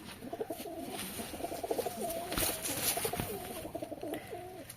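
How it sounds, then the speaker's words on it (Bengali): Pigeons coo in a loft, a run of low, throaty rolling calls one after another, close and steady, with a few sharp knocks and no talk. "এই যে পায়রা"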